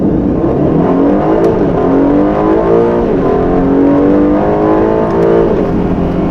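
A 680-horsepower Aston Martin DB12 pulls away from a standstill without launch control, its engine droning loud and close as the revs climb steadily in rising, layered tones, with no one speaking.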